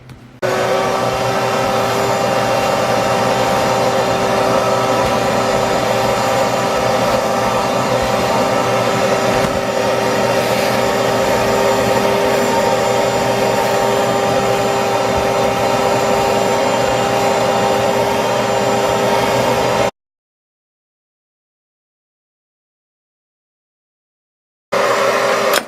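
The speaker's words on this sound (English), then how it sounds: "Now I'm gonna vacuum this out, make it really nice" A vacuum cleaner drones steadily and loudly inside the cab of a 1967 Ford F-100 truck during an interior clean. The tone is constant for about twenty seconds, then the sound drops to silence and briefly resumes.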